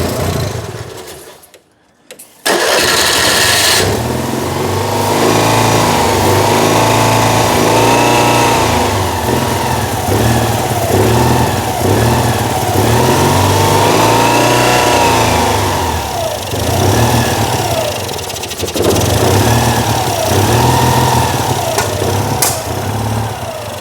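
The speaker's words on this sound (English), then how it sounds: "But that is a running 2CV Falcon kit car thing." Citroën 2CV-based Falcon S kit car, abandoned for 23 years, firing up after a brief silence, then running loud and close with a steady mid-pitched engine note and repeated revving swells.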